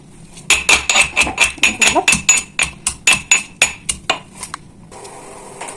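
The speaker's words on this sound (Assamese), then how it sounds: "ইয়াক মই খুন্দনিত অলপ খুন্দি ল'ম।" Ginger and garlic pounded in a mortar for a macaroni recipe, about twenty sharp rhythmic thuds in steady succession, close and loud, before the pounding trails off.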